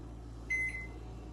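A microwave oven running off a Jackery battery power station gives a low, steady hum, fairly faint and constant, with a brief high electronic beep partway through.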